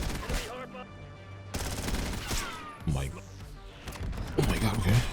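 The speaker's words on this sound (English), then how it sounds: "rapid fire also makes it just shoot 10 times faster than normal" Rapid-fire SMG shooting in the video game Black Ops 6 comes in several loud bursts separated by brief gaps, with a person talking over and between the volleys.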